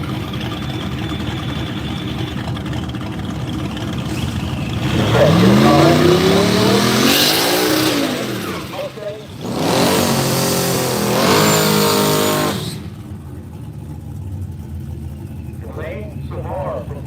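Loud drag race cars, a Mark and a '79 Malibu, launch and roar down the dragstrip at Woodburn Dragstrip. Two rising revving passes swell and fade over a commentator talking, then a quieter idle follows.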